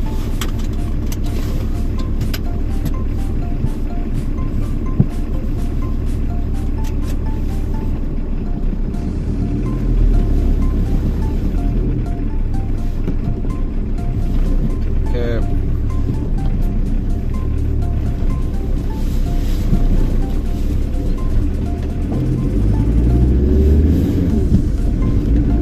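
A VW T4 van drives on a test drive over roads with speed humps, a steady low engine and road rumble heard from inside the cab, loud and continuous, with no talk.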